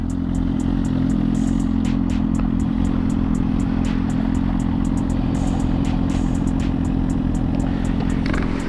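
A Suzuki GSX-R1000 superbike engine runs loud and close on the road, holding a steady low drone with mechanical clatter and faint wind noise, without any distinct shift sounds standing out.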